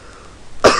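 A single short, loud cough, heard close at the very end after near silence, from someone who is sick.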